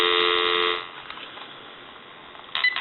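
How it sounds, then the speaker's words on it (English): A steady dial tone on a regular telephone line hums for under a second, then cuts off into faint line hiss, with a brief tone returning at the end. "Give you some dial tone."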